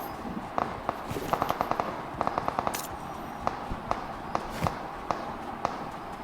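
Gunfire from a bot in a video game, bursts of quick sharp shots and scattered single pops, moderately loud over background game noise.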